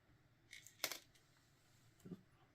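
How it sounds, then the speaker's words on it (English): Small screws drop out of an FX Panthera air rifle during disassembly, giving a quick cluster of light metallic clinks and then one faint low tap, all quiet and close. "I dropped all the screws out"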